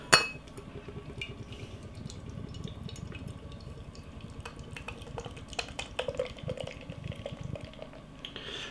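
Hazy New England IPA poured into a glass, a close liquid glugging and fizzing with a few light glass clinks, starting with a small hiss as the can opens.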